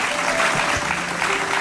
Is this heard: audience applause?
yes